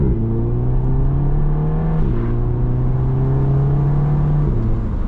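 A car pulls away with its gearbox in sequential mode on a mixed town and highway drive, the engine note rising steadily in pitch, dipping briefly at a gear change, then climbing again as a loud, continuous drone.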